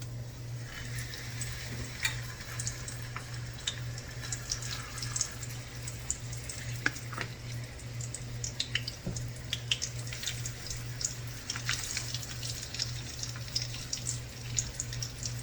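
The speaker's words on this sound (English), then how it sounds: "And we're going to let that fry." Fish pan-frying in hot oil gives a steady, close sizzle with scattered sharp crackles and pops throughout, with no talking.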